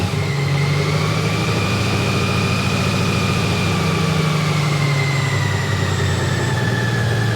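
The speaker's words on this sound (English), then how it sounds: "I demonstrated that my Honda Goldwing will crank up" A Honda Goldwing motorcycle with a DCT fault keeps up a loud, steady engine hum and idle throughout, with low harmonics droning evenly and no voices over it.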